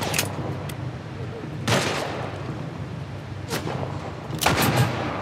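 Heavy gunfire from a powerful weapon in The Last of Us Part 1 video game: four loud, booming shots spaced a second or two apart, each with a short echoing tail over steady background ambience.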